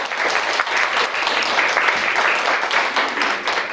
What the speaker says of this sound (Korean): 박수로 드립니다.